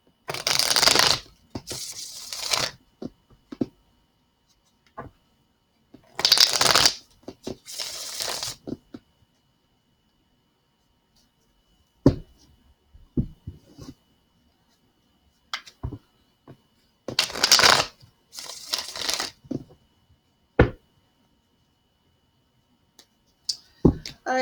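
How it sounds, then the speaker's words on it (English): A deck of tarot cards being cut and shuffled, several short crisp bursts of riffling and card slaps separated by quiet gaps, with light taps and clicks in between. "So just going to cut them cards like that, and then we'll move on to this card."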